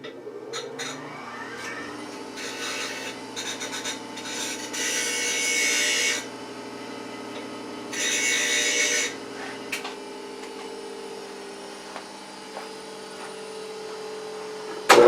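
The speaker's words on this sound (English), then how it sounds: "Sharpen the chisel." A woodworking chisel is sharpened on a stone in the workshop with two sustained bursts of gritty rubbing, close and moderately loud, separated by quieter stretches and a few light taps.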